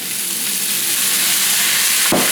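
Bell pepper sizzles steadily in a hot frying pan, a loud, continuous crackling hiss for a pepper steak, with a brief stir or clatter near the end and no voices.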